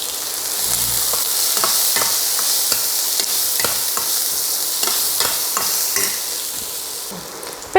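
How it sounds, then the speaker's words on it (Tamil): Onions sautéing with asafoetida in a pan for Chettinad adai batter, a steady close sizzle broken by the scrape and clatter of a spatula stirring every second or so, with no voices. "இப்போ இந்த வெங்காயம் வதங்கிட்டு இருக்கு."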